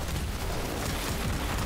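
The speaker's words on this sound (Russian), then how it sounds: "они уже все взрываются" Rapid overlapping explosions from Ember Prime's abilities in Warframe, a dense, continuous loud rumble with booming low end and crackling bursts filling the short stretch, no voices.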